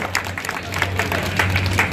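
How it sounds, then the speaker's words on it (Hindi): An audience claps at a passport office inauguration in Khandwa attended by minister Vijay Shah, with scattered, moderately loud applause running throughout while a voice talks over it. "अच्छे काम के लिए टाइम से ताली बजाओ"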